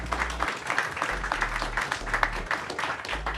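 An audience at a Justice Department antitrust forum applauds, a steady wash of clapping at moderate distance, with a low hum underneath and no clear speech.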